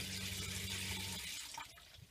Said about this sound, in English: let's turn the water on and see what happens